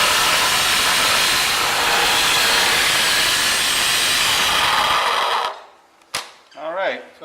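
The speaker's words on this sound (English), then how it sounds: "cutting the pallet out from underneath the compressor so we can get the wheels into place" A power saw cuts through an oak pallet beneath an Ingersoll Rand TS4N5 air compressor, a loud continuous rasping roar for about five seconds before stopping abruptly, followed by a couple of sharp knocks and a short whirring wind-down.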